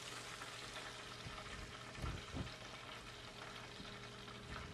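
Crappie fish fillets frying in hot grease outdoors, a steady faint sizzle and crackle with a couple of soft bumps from the fillets being moved.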